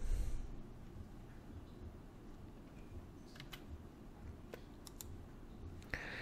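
A few faint, sharp computer mouse clicks sound while the Universal USB Installer program runs on Windows 8.1, scattered over a low, steady background hum.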